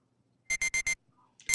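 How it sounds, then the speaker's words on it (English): Wristwatch alarm in the visual novel game Never7, four quick identical electronic beeps in a rapid even row, loud and clean against silence, then a fifth beep begins near the end. "My watch alarm."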